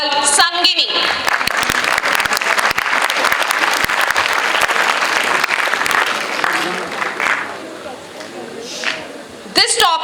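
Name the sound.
audience applause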